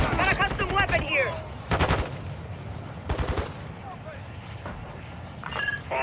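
Automatic gunfire in Call of Duty DMZ comes in a few sharp bursts, separated by quieter gaps, with someone talking over the early part.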